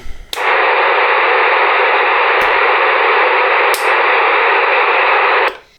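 Loud steady static hiss from a 23RTN-2-ChM two-way radio receiver with a non-working squelch, broken by a few sharp clicks, cutting out abruptly at the end.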